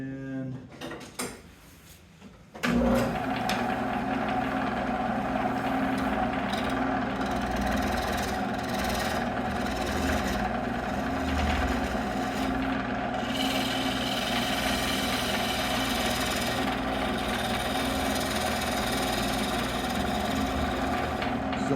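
A wood lathe spins up an English walnut live edge bowl, settling into a steady, continuous motor hum with light tonal whine and occasional scraping, close and constant without talk.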